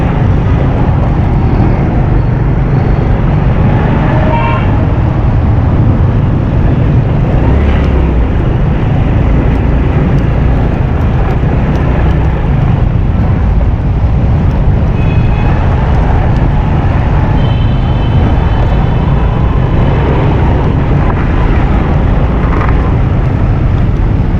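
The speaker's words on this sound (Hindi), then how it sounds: "मोटरसाइकिल चल नहीं रही, खड्डे बहुत हैं, देखें कैसे उछल कूद रही है" Motorcycle riding over a potholed road on a route toward Bandar Road, a loud continuous engine rumble mixed with wind buffeting and occasional jolts and rattles, heard up close without talk.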